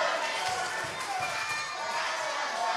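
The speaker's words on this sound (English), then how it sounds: "listen to this crowd" A wrestling arena crowd roars and cheers in a dense, continuous wash of voices that swells and dips slightly, loud and sustained throughout.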